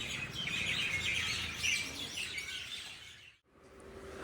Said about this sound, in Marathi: पक्ष्यांचा आवाज पहा किती येतोय.